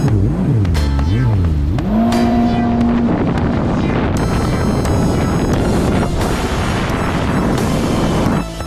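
A Kawasaki Ultra LX 160 jet ski fitted with pump wedges riding on water, its engine loud and steady with rising and falling whine as it revs, heavy wind buffeting and spray throughout.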